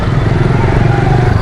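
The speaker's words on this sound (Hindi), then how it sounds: "ये देखें कितनी ट्रैफिक जाम रहती है यहाँ पर।" Dense traffic jam on a Karachi street, with motorcycles and cars idling and crawling together, makes a steady close engine rumble that fills the whole stretch without a break.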